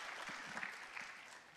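A church congregation applauds during a sermon, a steady patter of many hands clapping at a low, distant level with a few faint murmurs underneath.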